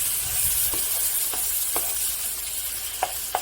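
Garlic cloves cook in butter in a pan, giving a steady close sizzling hiss broken by occasional sharp stirring clicks, with no talking.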